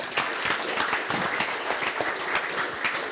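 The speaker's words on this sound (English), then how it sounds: "So please join me in a warm applause for everyone in our community of humans united by business." Room full of attendees at a business networking event applauding, a brief burst of dense, even clapping from many hands heard alone.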